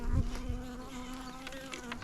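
Steady buzzing of honey bees close by, a continuous droning hum with a few louder passes near the start.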